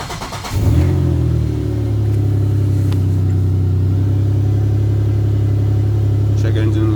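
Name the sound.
2005 Chevrolet Impala engine starting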